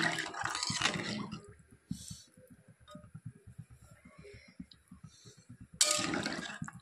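Broth pours into a potato and eggplant curry, a splashing liquid gush at the start, then quieter bubbling and small clinks, and another short pour near the end.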